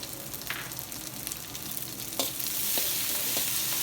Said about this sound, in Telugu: ఇప్పుడు ఇందులో ఈ కట్ చేసుకున్న ఉల్లిపాయలు, క్యాప్సికమ్ వేసేద్దాము